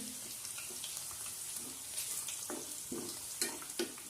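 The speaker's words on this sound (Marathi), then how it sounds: "लसूण चांगला सोनेरी रंग येईपर्यंत शिजवायचं आहे" Garlic fries in a pan until golden, giving a soft, steady sizzle with occasional light clinks of stirring, fairly quiet and without talk.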